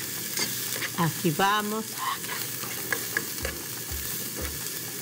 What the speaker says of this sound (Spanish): La cebolla, ya saben, tiene que ponerse traslúcida